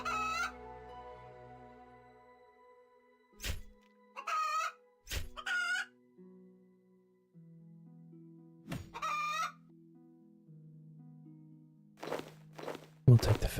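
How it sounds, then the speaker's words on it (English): Chickens in the RuneScape 3 game cluck in several short bursts, with a rooster-like crow and game footsteps scattered between quiet gaps, all crisp and close. "Oh, we can also grab the chickens."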